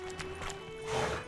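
A short stretch of horse hooves clopping along in The Witcher 3, close and steady over a sustained musical tone, with a brief neigh-like swell near the end.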